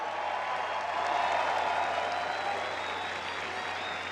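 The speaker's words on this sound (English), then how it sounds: "Round of applause for Ryan Tuerck." A crowd at a Formula Drift event in New Jersey applauds driver Ryan Tuerck after he climbs out of his car, a dense, even roar of distant clapping and cheering with a steady hum underneath.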